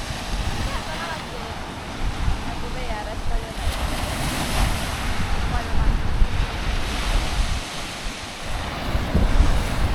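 Sea waves wash onto a beach in a continuous roaring surf, with wind buffeting the microphone and surging swells rising and falling; a person speaks briefly over it.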